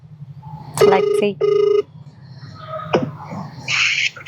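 An outgoing phone call rings back with two short electronic ringing bursts close to the handset, followed by a pause and faint background sounds.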